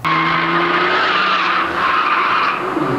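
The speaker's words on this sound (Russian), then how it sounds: "В погоне за временем пилоты стараются выжать максимум с накрученных движков Porsche, Volkswagen, Nissan и других марок автомобилей." Tuned Porsche, Volkswagen and Nissan race cars at a Time Attack event in Sochi, with a loud, continuous tire squeal and skid over engine noise, close and steady throughout.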